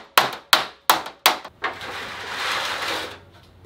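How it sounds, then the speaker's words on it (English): Four sharp, evenly spaced hammer-and-dolly blows on the metal of a custom air-duct decklid for a Subaru-powered vintage Porsche ring out close by, followed by a softer hit and a sustained rough hissing noise that fades out. "maybe I'll do a real quick hammer dolly or something"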